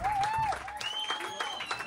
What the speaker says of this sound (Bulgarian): Аплодисменти за момчетата!